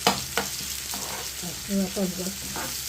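Onion and green chili fry in a pan, a soft continuous sizzle with a few sharp clicks of stirring, while someone talks briefly over it.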